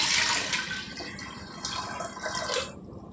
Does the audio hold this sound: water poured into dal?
yes